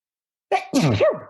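One sharp sneeze, close and loud, with a quick intake of breath just before it.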